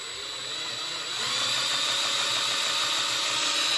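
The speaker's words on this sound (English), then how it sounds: "we're just going to fire this thing up and see where we go" A Suzuki Hayabusa engine cranks over with its oil pump being primed, giving a steady mechanical whir and rattle with a broad hiss that grows louder after the first second and holds on, close by with no talk.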